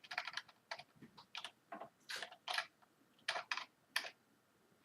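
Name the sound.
typing on Rii RK900 gaming keyboard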